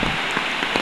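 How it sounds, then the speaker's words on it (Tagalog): Heavy typhoon rain pours down over mountains in a dense, steady roar, loud and continuous for a brief moment with no voices. "Halos sa matatakloban na ang ating kabundukan ng ulan."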